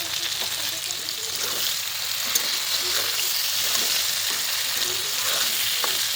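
Turmeric and chili powder sautéing in a pan of oil for a hilsa fish curry, a steady close sizzle with light stirring scrapes throughout.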